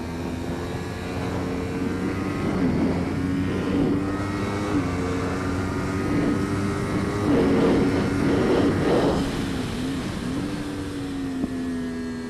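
A motorcycle engine drones steadily on a race track at Thunderhill, the pitch rising and falling through gear changes and throttle as the bike laps, loud and continuous with no voices.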